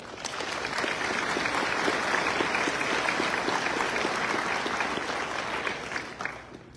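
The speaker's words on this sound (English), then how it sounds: "a big round of applause" A white coat ceremony audience gives a sustained, loud round of applause, with dense clapping that holds steady for several seconds before tapering off at the end.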